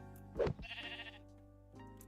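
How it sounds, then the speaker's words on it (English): A sheep bleats once in a Minecraft modpack game, a short, faint in-game call followed by quiet game ambience. "I hear a sheep"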